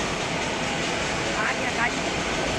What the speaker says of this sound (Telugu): చూడండి మెట్రో ట్రైన్ ఎలా ఉందో.